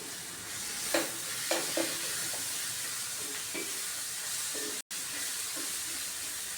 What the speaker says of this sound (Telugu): కలుపుతూనే ఉండాలండి